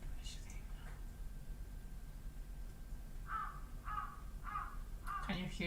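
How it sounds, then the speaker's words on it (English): Crows cawing faintly in the distance outdoors, a run of four evenly spaced harsh caws followed by a cluster of overlapping calls, set against a quiet background hiss. "Can you hear that? The crows. Classic sound that you hear in the animes."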